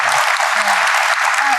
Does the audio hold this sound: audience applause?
yes